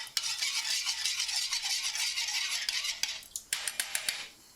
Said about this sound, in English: any kind of spoon or anything, just going to stir this up